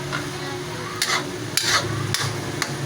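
Sweet potato leaves get stirred into noodles frying with corned beef, a soft continuous sizzle under four evenly spaced scraping strokes of a spatula against the pan, close and fairly quiet.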